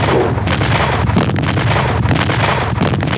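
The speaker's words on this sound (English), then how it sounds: "the pounding of artillery and the pounding of mortar shells" Artillery and mortar shell fire from the Nigeria–Biafra civil war: dense, continuous pounding and rumbling blasts, loud and distorted, with no voices.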